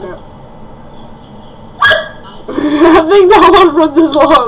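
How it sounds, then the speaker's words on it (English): A dog gives a single short bark, followed closely by people talking loudly over the rest of the moment. "I think that was a dog in there"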